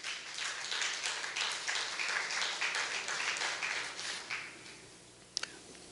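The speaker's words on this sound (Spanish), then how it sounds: "Dale un aplauso al Señor" A church congregation applauds during a Spanish-language sermon, a dense, steady wash of many hands clapping that fills the room for several seconds before thinning out, with a couple of sharp taps near the end.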